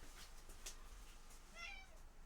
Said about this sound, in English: he just keeps like standing against the bathroom door and then meowing at it